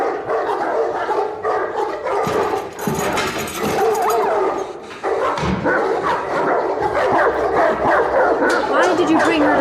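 Several dogs bark and yip loudly in bursts, close by, with people talking over and between the barking, in a Game of Thrones scene.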